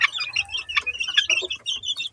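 Chicks chirp in quick, high-pitched peeps, close by and overlapping, with a soft low hum underneath.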